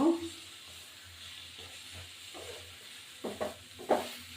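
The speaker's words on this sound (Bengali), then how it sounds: "চিনি দেব দিয়ে একটু নাড়ব" Gourd curry with fish head being stirred in a pan after sugar is added, soft scraping and gentle sizzling, with a few louder clinks of the spoon near the end.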